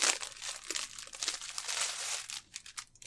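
Plastic packaging from a subscription loot crate crinkles and crunches up close as it is pulled open, a continuous rustling that breaks into a few sharper crackles near the end, with no talking.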